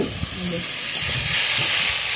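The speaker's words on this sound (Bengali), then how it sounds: "বেগুন আলুটা খুব সুন্দর করে ভাজা হয়ে গেছে, একদম লাল লাল হয়ে গেছে" Brinjal and potato pieces fry in hot oil, a loud close sizzle with a constant hiss and a few soft stirring knocks throughout.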